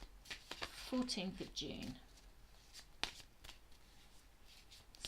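Tarot cards are shuffled by hand at close range, a dense riffling flutter with soft papery slaps in short bursts, while someone speaks quietly over it.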